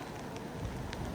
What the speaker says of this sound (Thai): ฝนก็ตกดีนะครับ